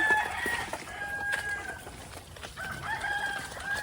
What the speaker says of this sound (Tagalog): dito nakalagay yung iba nating mga manok na nakatali